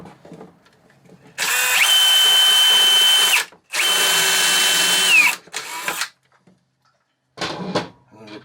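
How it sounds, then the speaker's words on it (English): A power drill pre-drills a hole through a custom-made piece in two long, loud, steady whining runs, followed by shorter bursts and a brief final spurt, all with no talking. "I'm going to do a little pre-drill action on there too."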